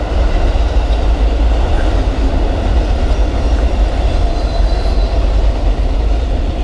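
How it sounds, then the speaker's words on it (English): An Amtrak Auto Train rolls past near Lake Beresford in DeLand, Florida, heading toward Sanford Station: a loud, close, continuous heavy rumble with faint wheel clatter and squeal, steady throughout. "And there it is, the end of the Amtrak auto train"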